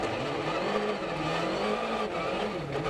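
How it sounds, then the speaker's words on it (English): A rally car sliding on studded tyres over an icy, snow-covered Monte Carlo stage, its engine droning and wavering steadily in pitch with a continuous hiss of tyres on ice. "a big slide for Loeb's compatriot, right on the limit of grip at times"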